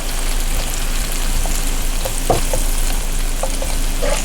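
Shrimp and garlic sizzle in a skillet over low heat, seasoned with sea salt and black pepper: a steady, close crackling hiss with scattered small pops, running alone throughout.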